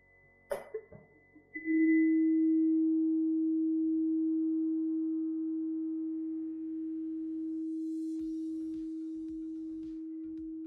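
A struck tuning fork rings out a pure, sustained single tone after a few knocks at the start, fading only slowly over several seconds while faint clicks and taps appear near the end.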